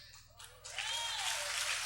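Audience applause at a church gathering swells after a brief pause into a steady, dense wash of clapping that holds to the end, heard alone with no voices.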